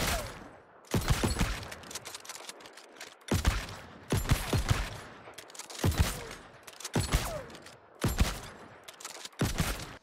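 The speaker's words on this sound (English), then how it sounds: "First, I'll be testing the normal shots so that we can get a base number" Blunderbuss shots fired in the video game New World: loud, booming blasts in a steady series, each followed by a brief rumbling tail, about eight shots spaced roughly a second apart.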